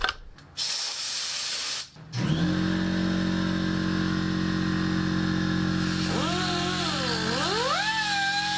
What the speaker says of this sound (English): I'm just gonna cut me a slit right there.